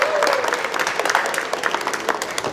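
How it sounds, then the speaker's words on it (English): A town hall audience applauds, a burst of many hands clapping in a room, fairly close and sustained without talk. "So first of all, give yourselves a round of applause."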